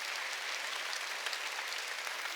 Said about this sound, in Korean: 사람만 박수 치라고